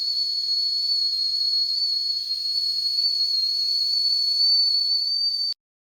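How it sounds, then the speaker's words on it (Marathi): Pressure cooker whistling on the gas while milk heats inside: a single loud, continuous high-pitched whistle with a steady hiss, holding for several seconds before cutting off abruptly. "कुकरमधलं पाणी संपेपर्यंत शिट्टी वाजतच राहील"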